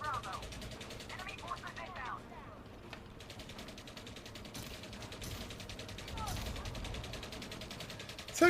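Gunfire in a spaceflight video game, with power play activity, sounds as dense layered bursts under a steady mechanical hum, with a voice speaking over it in stretches.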